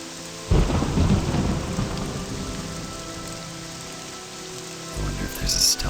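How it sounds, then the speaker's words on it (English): Steady rain and rolling thunder in the video game The Elder Scrolls III: Morrowind, a loud downpour with a thunder rumble starting early and another swell near the end, heard alone without voices. "Let's get out of the rain."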